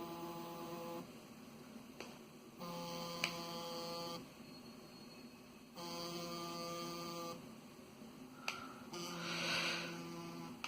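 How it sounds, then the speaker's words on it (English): A small vibration motor driven by a PWM signal hums in pulsed bursts, switching on and off in an uneven rhythm of roughly one- to two-second stretches, close and fairly quiet, with no talking. "the motor is now basically giving an output which is just like the LED"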